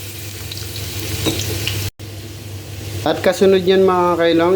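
Garlic hits a hot pan and sizzles loudly from about halfway through, with frying and stirring noises close by, while a person talks over the cooking.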